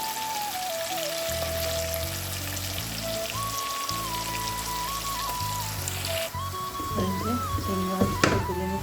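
Chopped onion and green chili frying in oil left over from cooking prawns, a steady, even sizzle and crackle that holds throughout, with tonal background music playing alongside.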